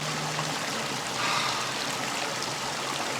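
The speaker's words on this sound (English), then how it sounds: "Look, Rodney, this is a city creek" A creek running through a Colorado Springs ghost town museum gives a steady, broad rush of flowing water that holds at an even level throughout, with no voices over it.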